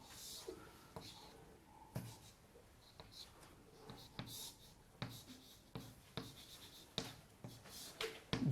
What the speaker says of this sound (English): maybe I'll just write here